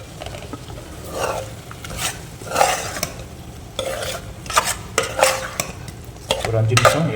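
Masala with Kashmiri red chili powder gets stirred through frying oil, a spoon scraping and clattering against the pan in repeated strokes over a low sizzle, close up and without speech.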